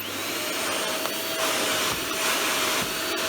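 A Fantom vacuum cleaner runs on carpet with a steady, loud airy whine and a faint high tone, continuous throughout with slight shifts as it moves, and no voices.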